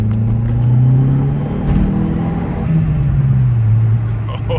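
A Dodge SRT4 accelerates hard under turbo boost through second and third gear, its engine drone climbing steadily in pitch with a loud, continuous rumble close to the microphone.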